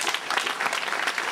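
Warm audience applause at a political gathering in France greeting a local figure, a brief burst of steady, dense clapping.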